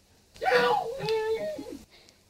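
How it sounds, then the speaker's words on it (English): A woman screams from under the ground in a radio drama, a single drawn-out wailing moan rising and falling for about a second and a half, close and alone against quiet. "she was screaming all wild and horrible for somebody to dig her out"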